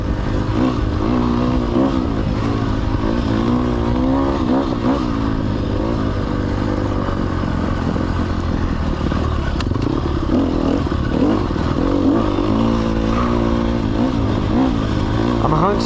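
Sherco 300 SEF dirt bike engine while riding, a steady loud four-stroke drone with shifting revs throughout, wavering pitch as the throttle rises and falls, with a voice talking over it.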